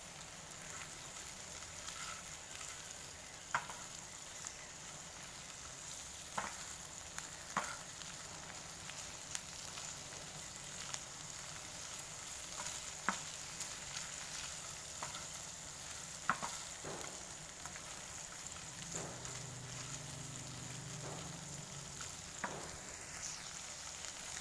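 Shrimp frying in garlic butter in a pan, a soft continuous sizzle with occasional sharp pops and a brief spatula scrape near the end, no talk.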